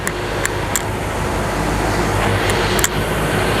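A 2013 Ford Ranger 2.2 Open Cab Hi-Rider XLT manual pickup engine is pushed hard; its loud, steady roar runs through the whole stretch, with a few faint clicks over it and no voices.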